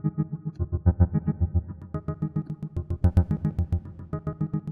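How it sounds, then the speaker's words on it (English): A sharp, plucky synth line run through a Bitwig effects plugin, with short bright notes repeating in a quick, even rhythm and a slightly distorted, chorused tone, loud and close with no voices. "Maybe we'll do just like a sharp little plucky sound."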